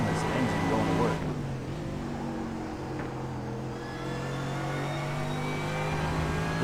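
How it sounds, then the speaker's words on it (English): A race car engine in the iRacing sim at Silverstone drones under load at a steady pitch and shifts slightly as it revs. It runs continuously at moderate loudness with no talk over it. "Just hear that ginormous engine going to work."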